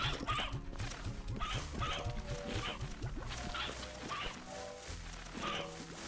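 Hens clucking in the video game Slime Rancher, a repeated chorus of close clucks and squawks over a looping game soundtrack.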